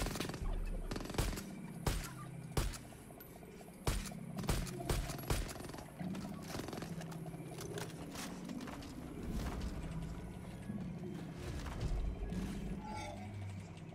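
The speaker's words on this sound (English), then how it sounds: "Those turkeys are way tougher than they should be." Turkeys gobble in Far Cry 5 amid a busy game soundscape, with repeated sharp bursts and layered bird calls over a steady dense background, moderately loud and without talk.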